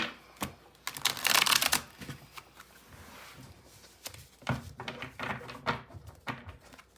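Tarot deck shuffled by hand in a card reading, giving bursts of crisp riffling and flapping card noise with soft taps in between, fairly close and alone without talk.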